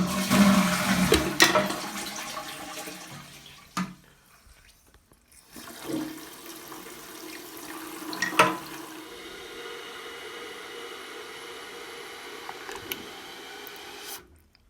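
A household toilet flushes with a loud rushing gurgle, then after a brief lull the cistern refills with a steady hissing water flow that continues for about ten seconds, close by in a small bathroom.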